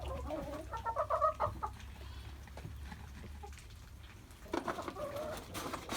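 Backyard chickens cluck in short bursts at moderate distance, busiest in the opening seconds and again near the end, with a low hum running underneath and no talk.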